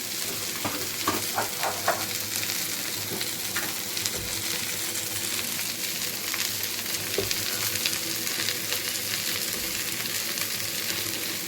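Mint, coriander and tamarind sauté in a pan for a chutney, making a loud, continuous close-up sizzle. Repeated scraping stirs of a spatula run through it, with no talking.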